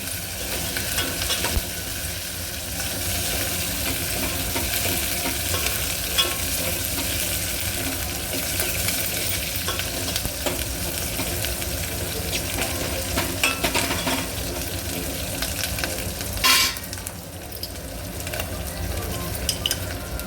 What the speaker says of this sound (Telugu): కరివేపాకు, కొంచెం ఫ్రై కావాలండి ఇది.